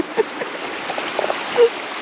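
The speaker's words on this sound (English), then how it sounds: "It's a little babbling brook right by the road." A small babbling brook beside a road on a rapids hike, a steady gurgling trickle of water running throughout with a few brief louder splashes, close by and alone with no talk.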